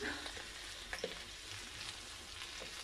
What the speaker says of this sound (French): On sent que ça grésille, mais ça brûle pas.